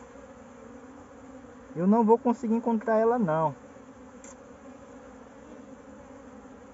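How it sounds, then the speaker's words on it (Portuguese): Honey bees from a swarm that settled in a tire buzz around the hive, a steady low drone in the background while someone speaks in Portuguese close by. "Tem muita abelha."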